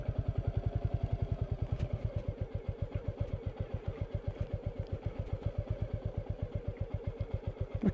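Royal Enfield Meteor 350 motorcycle chugging along a rough off-road track in first or second gear, a steady, fast single-cylinder thump close by with light clatter and no voices.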